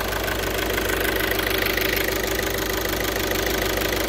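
A 2012 Volkswagen Jetta engine running at idle after being started, a steady close rumble with a constant mid-pitched hum and faint rhythmic ticking throughout, no voices.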